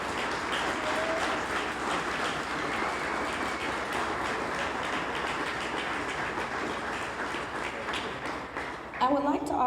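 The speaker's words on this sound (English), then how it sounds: "Let's give them a round of applause" A crowd applauds for the 1955-56 men's basketball team at a Hall of Fame induction ceremony, sustained steady clapping throughout that stays loud before tapering at the end.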